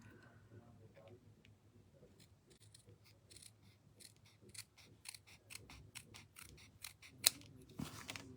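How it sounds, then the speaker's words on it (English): Scissors trimming a strip of cardstock for a handmade Christmas card, a run of small crisp snips close by, growing busier toward the end with a sharp click near the finish. "I think I'm just going to cut that off a little bit."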